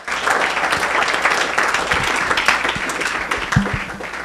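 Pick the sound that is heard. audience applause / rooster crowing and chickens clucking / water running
audience applause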